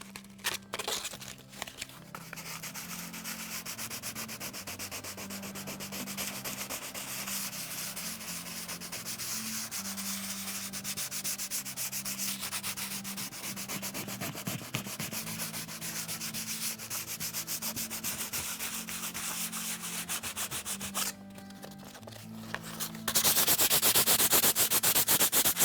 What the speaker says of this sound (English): We sand randomly all over the surface.